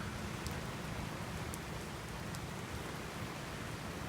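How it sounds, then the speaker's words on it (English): Heavy rain pours down during a severe storm in Miami, a dense, even roar of downpour with scattered sharper drop hits, steady and close for the whole stretch with no voices. "So we are about to have another downpour."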